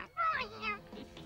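A single drawn-out cartoon meow, loud and close, rising then trailing off, with no talking.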